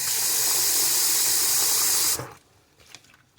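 Water pours or runs from a tap, a loud steady hiss for about two seconds while homemade stuffing is being made, then stops abruptly, leaving faint kitchen noise.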